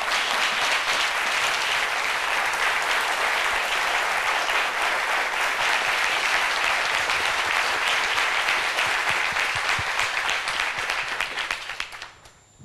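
Warm audience applause in a television studio, a dense continuous clapping from a crowd that holds steady for several seconds before fading out at the end.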